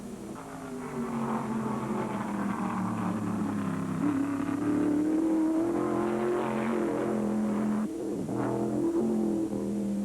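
1975 NASCAR modified race cars, including Maynard Troyer's Mustang II, run flat out on Daytona's high banks, their engines holding a loud, steady roar with a slowly shifting pitch and no break for the full stretch.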